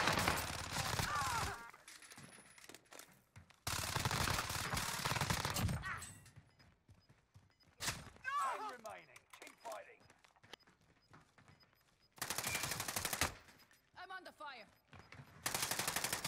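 Gunfire in Call of Duty Warzone on Rebirth Island, with loud bursts of rapid automatic fire in several separate volleys, interspersed with quieter footsteps and movement sounds and talking from players.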